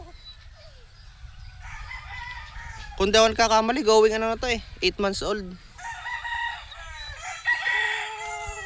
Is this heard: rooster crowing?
yes